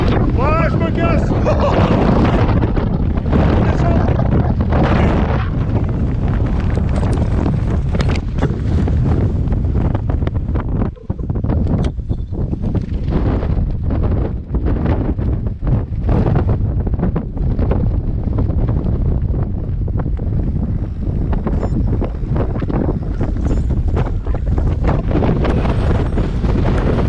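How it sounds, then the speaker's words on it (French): Strong wind buffets the microphone in heavy, roaring gusts in the Spanish countryside, rising and falling continuously, with faint voices half buried beneath the rush. "Les rafales de vent de ma boule."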